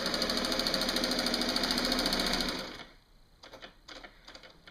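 Sewing machine quilting with a walking foot, running in a fast steady whirring stitch for under three seconds, then stopping, followed by a few faint clicks and handling sounds.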